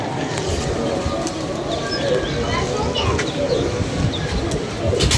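Pigeons perched on a roof cooing nearby in soft repeated murmurs, mixed with chirps and background voices talking.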